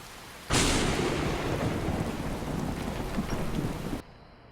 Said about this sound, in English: Yeah, that's thunder, especially if you have the volume up kind of in the higher range